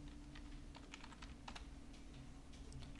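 Quiet clicking of a computer keyboard, a few irregular light keystrokes over a low, steady electrical hum, faint and close with no speech.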